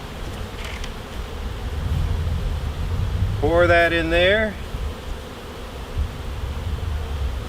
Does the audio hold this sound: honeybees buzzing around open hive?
yes